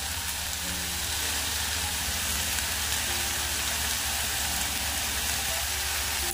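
Spice paste of cumin, mustard seed and green chilli frying with flat beans in a pan, a loud steady sizzle that holds evenly throughout, close and without a break.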